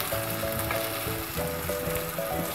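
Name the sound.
chicken korma being stirred and frying in pan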